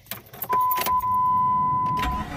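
Keys jangle briefly, then a 2000 Jeep Grand Cherokee Laredo with the 4.0 engine cranks with a steady whine and catches, heard close and fairly loud with no talk.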